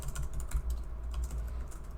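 Brisk typing on a computer keyboard while writing C# code, a close, continuous patter of light key clicks with no talking.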